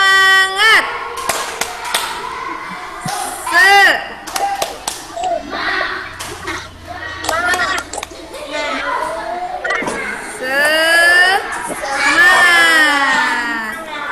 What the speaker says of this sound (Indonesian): Nah, biar semangat, kita tepuk semangat lagi ya